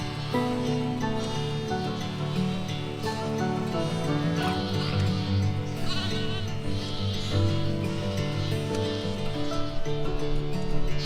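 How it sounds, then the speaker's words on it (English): Lambs bleating in a lambing shed at the end of the season, several overlapping loud bleats and cries close by, dense and continuous with no talk. "There's some really nice lambs in here."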